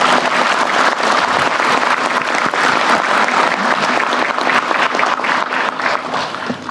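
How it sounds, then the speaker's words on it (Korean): A large audience at a Korean government policy briefing claps steadily, dense sustained applause filling the room for several seconds without pause and tailing off slightly at the end. "박수도 한번 치셔주세요."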